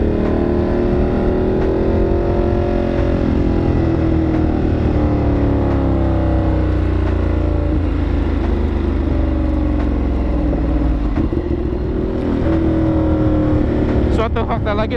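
A Ducati Monster 1200S motorcycle with an aftermarket exhaust pulls hard under throttle while riding, a loud continuous engine drone with rising and falling pitch as it revs and accelerates, close and constant throughout.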